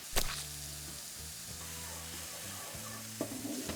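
Onions and garlic sizzling and frying in a pan, a steady close hiss with brief stirring clatters near the start and end, no talking.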